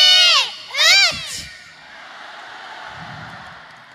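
A group of children at a Uyghur Eid celebration in Istanbul shout a word together twice in loud unison bursts, followed by a low murmuring crowd hum.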